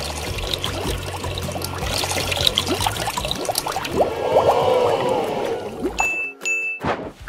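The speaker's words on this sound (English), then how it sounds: "Let's see how it sucks up water." Water gurgles and trickles as a LEGO water tanker draws water from a bowl through a plastic tube into a plastic bottle, with small clinks and bubbling close up, ending in a few brief tones.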